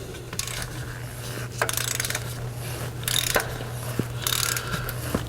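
A ratchet clicks in short bursts while tightening an oil filter cap wrench on a 2009-2011 Mazda 6 four-cylinder, with close, crisp pawl clicks in several separate strokes over a low hum.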